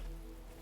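Steady rain hiss from the overcast outdoor setting of the video game The Talos Principle, a soft continuous patter with no voices, fairly faint and even throughout.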